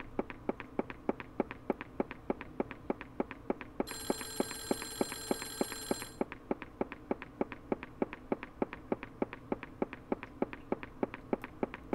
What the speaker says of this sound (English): Where's the phone call coming from?